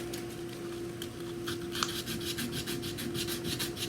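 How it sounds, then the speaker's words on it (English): Sandpaper rubbed over a wooden whiskey barrel in quick, rhythmic back-and-forth strokes, close and moderately loud over a steady low hum. "When you sand it, you're sealing up the grains"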